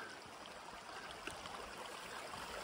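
A forest creek in Yellowstone backcountry flows with a soft, steady babble and trickle, faint and continuous with no voices.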